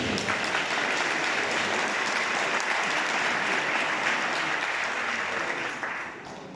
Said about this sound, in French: notre sœur Nathalie Yang, qui demande d'applaudir fortement.